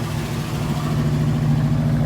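A 1968 Mustang's engine runs steadily on a cold day after a carburetor change, a close, loud, even idle with a rumbling exhaust and no voices.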